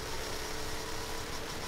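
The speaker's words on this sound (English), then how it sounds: "Sounds like we're driving a little RC car." A small video game vehicle engine in Saints Row 3 hums and buzzes steadily at low volume, a thin whiny motor drone like a toy RC car, with no break.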